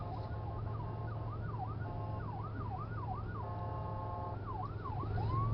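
An ambulance siren wails outside in a repeating up-and-down pattern, steady and moderately distant over a constant low hum, with no one speaking.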